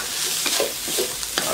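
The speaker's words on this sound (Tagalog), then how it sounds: "Haluin lang natin." Lechon sisig being stirred in a hot pan, a dense close sizzle with a few quick scraping strokes of a utensil across the surface over a short moment, no voices present.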